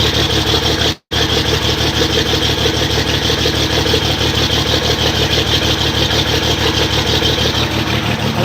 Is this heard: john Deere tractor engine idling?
yes